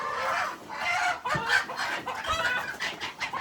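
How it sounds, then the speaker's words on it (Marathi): Farm hens being fed maize cluck and chatter nearby in a busy, continuous stream of overlapping calls, with no talking. "कोंबडी कोंबडी कोंबडी"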